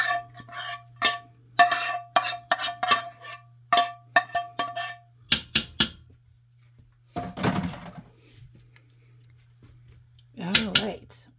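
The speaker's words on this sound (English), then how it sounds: "remember the mushrooms and onions? Let's get those in there." A series of clinks and knocks of utensils against a pan as mushrooms and onions go in for a chicken spaghetti dish, spaced irregularly over a low hum, with brief voice sounds mixed in later.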